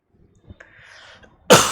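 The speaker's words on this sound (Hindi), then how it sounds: "यार खांसी कितनी आ रही" After near silence with faint rustles, one loud, sharp cough erupts close by.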